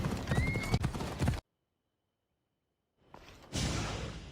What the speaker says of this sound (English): Take this horse either to Adonis or to the stable boy.